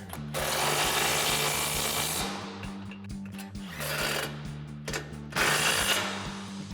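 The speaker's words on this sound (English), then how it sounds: "grab our 15 mil socket on our impact and 17 mil wrench. Again, that is just for our specific hardware. And we'll tighten these down." Impact wrench with a 15 mm socket running down front suspension bolts on a 4WD Chevrolet Silverado 1500 during a Bilstein B8 6112 leveling kit install, in loud steady hammering bursts with short pauses, close and alone.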